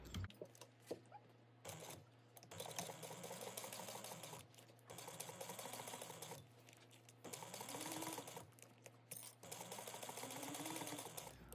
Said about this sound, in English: you're gonna sew down each side at 1/8 of an inch